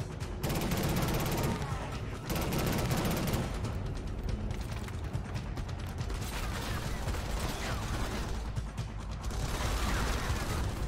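Rapid gunfire from the video game Killzone Shadow Fall, with dense, sustained bursts of shots and clicking weapon mechanisms filling the whole stretch, loud and continuous with only brief lulls.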